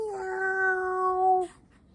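A person imitates a cat's meow, one long drawn-out mewing cry with a wavering, harmonic tone that ends abruptly, followed by a short, soft rustle.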